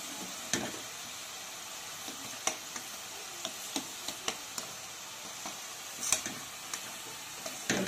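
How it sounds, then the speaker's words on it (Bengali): Chopped lau and palong shak vegetables sizzle and bubble in hot oil in a pan, a steady frying hiss broken by scattered sharp pops and crackles. "তেলেতে আমার আনাজগুলো কেমন টক বক করে ফুটছে"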